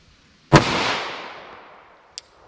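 A single sharp, loud gunshot from a .45 ACP pistol firing a Hornady Critical Defense round, with a long rolling echo and a faint click afterward.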